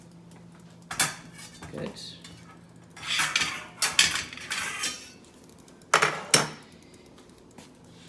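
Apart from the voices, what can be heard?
pan being handled while melting butter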